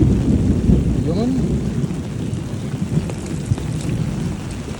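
Heavy rain during a typhoon in Sampaloc, Manila, a loud, dense hiss of downpour with low rumbling and gusty wind buffeting the microphone close up, while a voice is faintly heard underneath.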